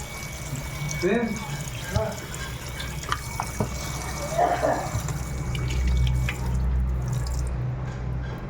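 Tap water runs and splashes while fresh pond fish are rinsed, an uneven trickling and dripping that swells toward the end, with voices talking over it at times.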